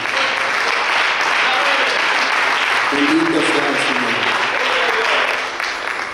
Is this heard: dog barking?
no